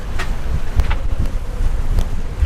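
Gusty wind buffets a sailboat running under a double-reefed main in open water, a rough broadband rush with irregular louder gusts and thumps, steady throughout with no voices.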